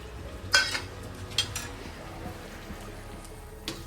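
A sweet mixture with chopped dry fruits stirred in a pan, with a few metallic scrapes and clinks of the spoon against the pan over a low background hiss.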